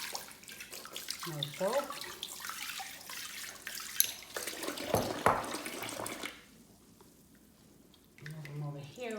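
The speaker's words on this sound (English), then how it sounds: "Maybe we'll give him a little rinse off with the sprayer." A sprayer rinses a silicone baby boy doll in a sink, giving a steady rush and splash of water that drops off near the end, with a person talking briefly over it.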